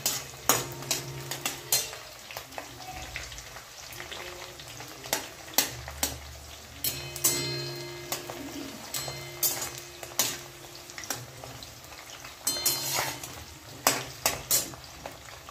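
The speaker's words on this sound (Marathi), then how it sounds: "आपल्याला कांदा खूप छान जास्त फ्राय करून नाही घ्यायचा, थोडंसं गुलाबी कलर येईपर्यंत फ्राय करायचं आहे." Chopped onion fries in a pan for pav bhaji, a soft steady sizzle broken by frequent clinks and scrapes of a spoon stirring against the metal.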